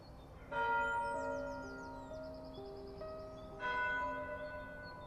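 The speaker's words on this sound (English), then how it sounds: "As the bells tolled one by one" Church bells toll twice, several seconds apart, each strike ringing with long sustained overtones that fade slowly against a quiet background.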